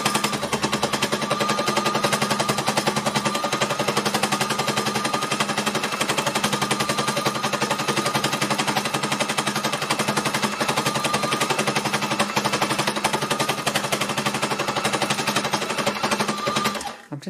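An embellishing machine runs steadily over fabric for free-motion embellishing, giving a loud, continuous rapid mechanical chatter with a constant hum throughout, alone and close by.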